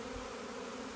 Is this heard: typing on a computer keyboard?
no